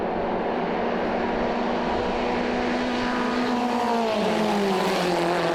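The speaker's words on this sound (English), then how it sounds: "You can just hear these engines at song." F1600 open-wheel race cars run past on the back straight at Canadian Tire Motorsport Park, their engines droning loud and steady with a rising whine, then dropping in pitch as they pass.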